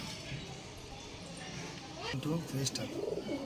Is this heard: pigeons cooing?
yes